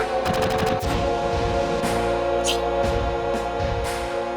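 Rapid double-gun shots from a Final Fantasy VII battle, a quick burst of sharp cracks at the start followed by several spaced single bursts over a steady game music bed, with no talking.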